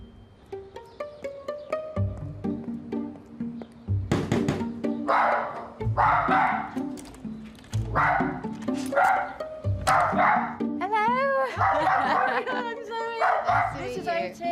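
A dachshund barks in repeated sharp bursts, close and loud, with yips and whimpery pitch glides mixed in. A person talks over and between the barks.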